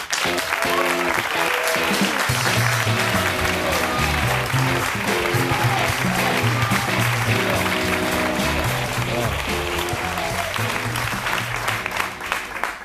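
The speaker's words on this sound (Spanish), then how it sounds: "Fuerte el aplauso para José Ángel Mañas." A studio audience gives a sustained, loud round of applause to welcome a young novelist, the clapping dense and even throughout, with band music playing underneath.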